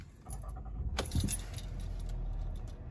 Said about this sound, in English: I'm gonna go ahead and turn the ignition off. And then I'm gonna restart the vehicle right away.